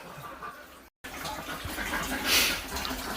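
Water splashes and churns steadily in a 1500-gallon ice water plunge tank outdoors. The rushing sound is loud and close and swells toward the end, broken by one brief dropout.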